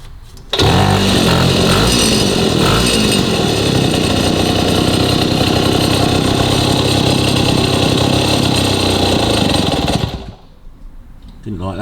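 A 1953 Itom Astor Sport two-stroke motorcycle engine fires and runs loud and raspy right up close for about nine seconds, then cuts out abruptly.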